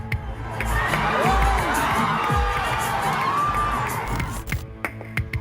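Fans of actor Junior NTR cheer at an event: a dense crowd roar with whoops, whistles and shouts swells and holds steadily, then breaks into scattered calls near the end.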